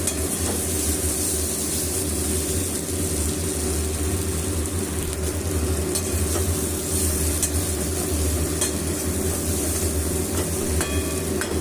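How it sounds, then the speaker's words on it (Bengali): Bitter gourd and pumpkin fry being stirred in a pan, giving a steady, even sizzle and scrape that runs unbroken through the whole stretch, with no talk. "এরপর এটা খুব ভালোভাবে আরেকবার নাড়াচাড়া করে দিয়ে আমি এটাকে নামিয়ে নেব"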